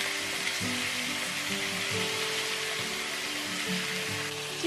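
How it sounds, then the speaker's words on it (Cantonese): Pork ribs frying in a little oil in a pan for Chinese-style braised spice ribs, giving a steady close sizzle that holds evenly throughout with no talking. "我哋先煎一煎嗰啲排骨，"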